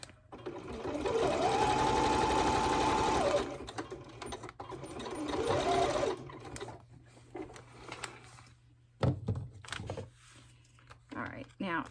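A sewing machine stitches a zigzag through a junk journal made from Amazon packaging, a close mechanical whirring run of about three seconds, then a shorter burst, followed by handling clatter and a quiet voice.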